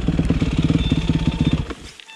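An enduro motorcycle engine chugs close and loud in a rapid, uneven thumping rhythm, then sputters and cuts out, leaving near silence.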